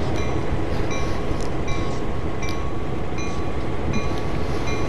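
A GP-38-2 diesel locomotive in Train Sim World eases slowly toward a junction, a continuous low engine rumble with a faint repeating higher tonal whine and light rail clicks, steady and close, with no voices.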